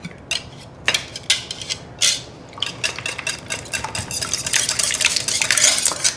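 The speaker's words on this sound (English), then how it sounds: "Here we got break up those yolks." Eggs stirred in a dish with a utensil, yolks being broken up, giving repeated close clinks and scraping scrapes in an irregular rhythm, with a faint background hum.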